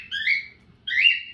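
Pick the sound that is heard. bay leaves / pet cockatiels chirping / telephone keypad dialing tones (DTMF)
pet cockatiels chirping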